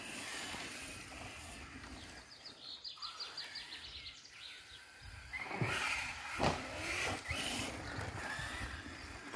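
An Arrma Mojave RC car runs laps on a small circuit around a house outdoors, its electric motor whining and buzzing as it passes, louder in the second half, with birds chirping in the background.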